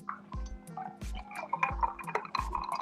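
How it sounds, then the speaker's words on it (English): A drink is poured into a glass nearby, heard as a quiet run of splashing drips and bright clinks with a few soft low knocks, and no voices. "I hear you pouring a drink"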